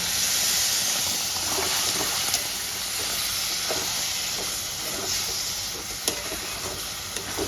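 Water is poured into a hot pan of cabbage cooking with mung dal and paneer, and a loud, steady steam hiss and sizzle carries on for several seconds with small crackles and no talking.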